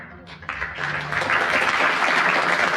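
Studio audience applause at a 1971 radio panel game, a dense wash of clapping that builds and grows louder over a few seconds, with no speech on top.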